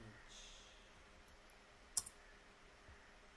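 A computer mouse gives one crisp click, followed by a faint second click, while an image is selected in a Google Jamboard session. The clicks are close and quiet, with soft talking before them.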